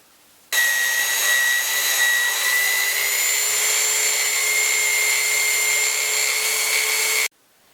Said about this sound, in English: I need to clean up my part on the belt sander.